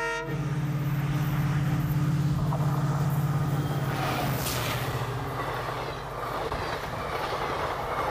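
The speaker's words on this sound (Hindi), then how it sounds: "EMT का एक ज़बरदस्त डीजल लोकोमोटिव।" An Indian Railways diesel locomotive rumbles loudly with a sustained low horn blast in the first half, followed by steady rolling train noise and clatter, with no talking.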